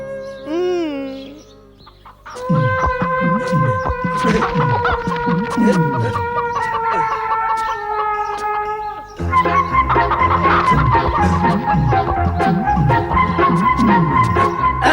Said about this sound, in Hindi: सुबह से उस मुर्गी के पीछे पड़ गए हो।